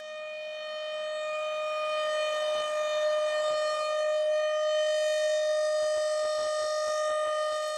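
A Chicago civil defense siren wails in a loud, sustained, steady tone with strong harmonics, holding for the full stretch, with faint clicks and knocks near the end.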